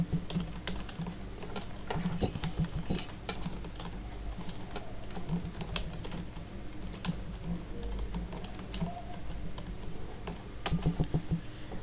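Rapid clicking of a computer keyboard as someone types out an entry in a spreadsheet, steady quiet key taps in bursts with brief pauses, close and alone without speech.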